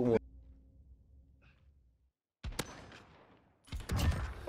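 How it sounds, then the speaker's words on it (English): Gun firing in a first-person shooter: sharp, close shots arriving in short bursts after a near-silent gap, mixed with a player speaking. "I don't know how fast this gun shoots"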